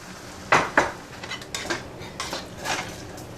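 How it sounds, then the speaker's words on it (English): Shredded beef and broth added to a pan for Venezuelan shredded beef, with two sharp metal clanks of utensils on the pan followed by softer scraping and stirring knocks, close up. "now I'm going to add the shredded beef. And I'm going to add about a cup of that broth."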